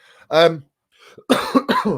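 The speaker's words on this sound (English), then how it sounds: "Keep coughing." Several harsh coughs come in quick bursts close to the microphone, separated by short pauses.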